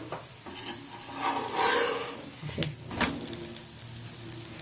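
A nashta flatbread frying in a pan as it cooks and is flipped, giving a soft continuous sizzle with scraping, rubbing stirs and a couple of sharper knocks from the spatula, close and fairly quiet.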